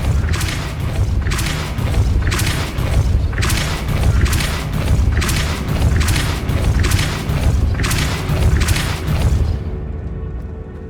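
Depulso spell blasts in the video game Hogwarts Legacy, a series of about eight heavy booming whooshes in a steady rhythm, loud and close, ending in quieter rumble.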